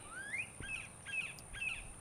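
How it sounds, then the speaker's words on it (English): A loud bird calls outdoors on a homestead, giving three or four rising chirping phrases in quick succession over steady insect buzz and a high constant whine. "that bird is loud"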